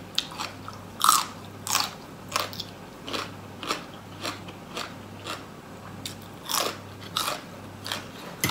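Crisp food is bitten and chewed close to the mic in a meal of Thai khanom jin rice noodles with green curry and vegetables. Loud crunching bites repeat roughly every second over a faint low hum, with no talk.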